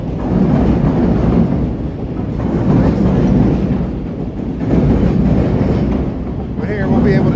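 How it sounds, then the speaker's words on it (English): A train rolls past on rails beside the South Branch of the Chicago River near a bascule drawbridge, loud and close with a continuous rumbling clatter and rhythmic wheel noise, plus squeals near the end. "Train going by."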